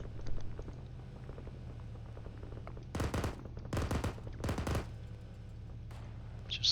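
Suppressed gunfire in the video game Arma 3, a few short muffled bursts standing out over a steady low background hum, with quieter shots scattered around them.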